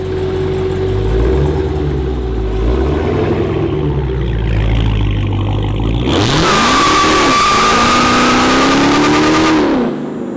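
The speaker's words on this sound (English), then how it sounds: "a 2019 Dodge Hellcat Redeye" A 2019 Dodge Hellcat Redeye idles with a low, lumpy rumble, then roars into a loud, rising rev as it pulls away, the howl holding for several seconds before cutting off sharply.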